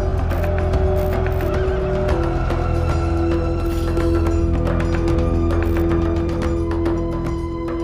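Horses neigh and whinny loudly over a dense bed of clip-clopping hooves and other animal noise, several whinnies rising close up against the steady din.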